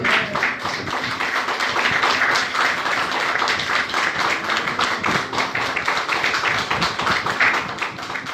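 A church congregation claps and applauds for the Lord, a dense, lively burst of many hands with rapid individual claps standing out, sustained and fairly loud for several seconds.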